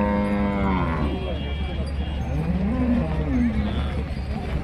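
At a busy cattle market, cows moo in several rising and falling calls, one long low near the start and shorter ones later, over steady crowd and vehicle noise.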